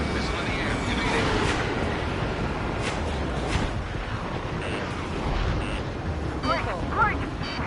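Missiles and explosions in Ace Combat 7: Skies Unknown, played on PS5 in its PS4 version, make a continuous, loud rumbling barrage with sharper blasts throughout, and radio-style voices talk faintly underneath.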